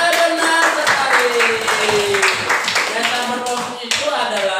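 Classroom of young primary school pupils clapping hands together, a busy patter of many small claps filling the room while children's voices chatter and call out over it.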